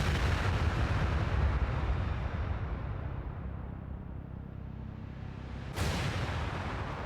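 Heavy bomb blasts from Vietnam War footage rumble in a continuous deep, roaring wash that slowly fades before a fresh burst of explosions surges back near the end, with no talking.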